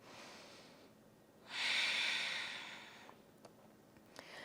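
One slow, deep breath drawn in during a held yoga pose, a soft airy rush that swells, then fades over about two seconds against quiet room tone, followed by a few faint clicks.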